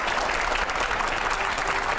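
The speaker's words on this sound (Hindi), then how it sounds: "पहले जोरदार तालियां होनी चाहिए।" Loud, sustained applause from a large audience at a political event in Delhi, a dense unbroken roar of clapping throughout.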